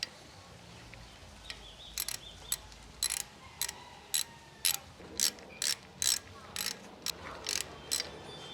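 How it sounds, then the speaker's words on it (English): Ratchet with a 10mm socket tightening bolts on an NB2 Mazda Miata shifter assembly: a steady series of short, crisp clicking bursts, about a dozen in a row, close and clear against a quiet background. "Grab my 10mm socket. Just kind of tighten these guys down."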